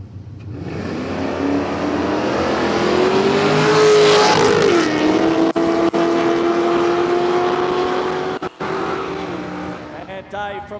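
A red Holden Commodore Ute on an 8-second drag racing pass, a loud engine revving up through rising gears and then roaring away down the strip while a crowd murmurs.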